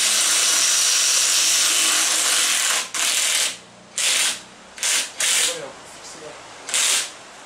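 A mechanic's ratchet works a bolt loose under an Audi A6 V6 TDI Quattro during gearbox removal, sounding as a long steady rasping run followed by several short separate bursts, with people talking in a workshop.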